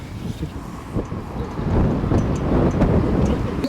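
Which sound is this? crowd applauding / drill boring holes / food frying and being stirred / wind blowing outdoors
wind blowing outdoors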